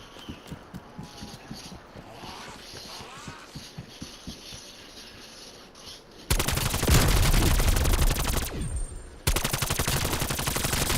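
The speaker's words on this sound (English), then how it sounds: "Death machine going live." The Death Machine minigun in Call of Duty: Black Ops Cold War firing in sustained, very loud rattling bursts, starting after quieter in-game clatter and pausing briefly before resuming at full intensity.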